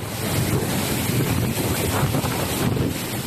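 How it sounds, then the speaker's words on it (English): Violent typhoon winds on Hainan Island, gusting past 230 kilometers an hour in Wangchang City: a loud, continuous roar of wind buffeting the microphone, dense and unbroken throughout. "Palm trees bend violently to winds exceeding 230 kilometers an hour in Wangchang City on Hainan Island."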